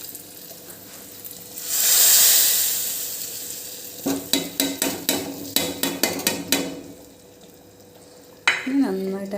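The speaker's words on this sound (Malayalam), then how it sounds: "നമ്മൾ ഈ കടുക് പൊട്ടിച്ചെടുത്ത് കറിയിലേക്ക് ഒഴിക്കുകയാണ്." Hot mustard-seed tempering is poured into a Kerala-style dried-fish curry with mango, giving a loud swelling sizzle that fades, then a run of sharp clinks and knocks from the pan and spoon, with a brief voice at the end.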